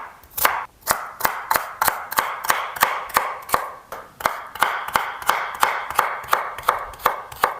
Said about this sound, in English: I'm gonna chop them up fine, and we're gonna use them for the initial soffritto